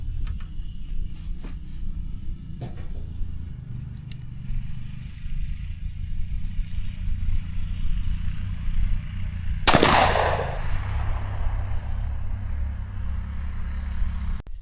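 One sharp, loud report from a .410 shotgun firing a Federal 13/16-ounce 9-shot TSS shell outdoors, followed by a brief echoing tail over steady engine-like background rumble.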